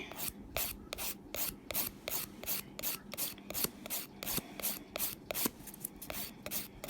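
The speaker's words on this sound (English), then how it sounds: "Bit more buffing." Steady rhythmic hand buffing of acrylic nails, a soft scratchy rubbing stroke repeating about twice a second, close up and fairly quiet, with no talking.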